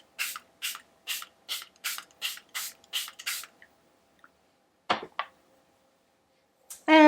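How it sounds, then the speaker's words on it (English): Charlotte Tilbury Airbrush Flawless setting spray misted onto a face: about ten quick, evenly spaced pumps in a row, close and crisp, then a pause and a couple more sprays in a quiet room. "I'm going to be using the Charlotte Tilbury. This is the Airbrush Flawless Setting Spray."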